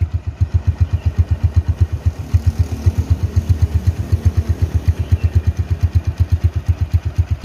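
A 2013 Honda Tiger Revo motorcycle engine idles at low revs, a steady, even pulsing thump with close, loud exhaust beats that carry on alone without faltering.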